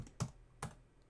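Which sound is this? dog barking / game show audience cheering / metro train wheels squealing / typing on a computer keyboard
typing on a computer keyboard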